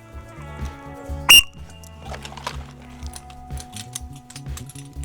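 A whistle blown as a signal during a shooting drill, one short sharp shrill blast standing out over low background clatter and faint activity.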